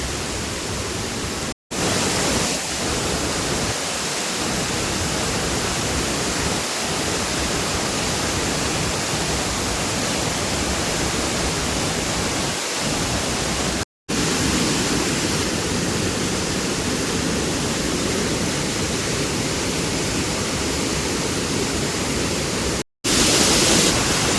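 A rain-swollen stream and waterfall near Kankavli roar in a dense, unbroken broadband rush, loud and close, with a couple of abrupt brief cuts.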